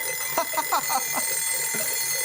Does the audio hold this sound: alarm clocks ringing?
yes